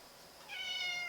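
A cat gives a single short, faint meow indoors, rising briefly out of a quiet room background.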